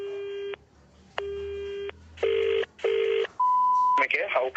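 Telephone tones sound after a call on a phone-in radio prank show ends: two long ringback-like bursts, two shorter busy-tone bursts, then a steady single tone. The pattern is clean and close, and a voice cuts in at the end.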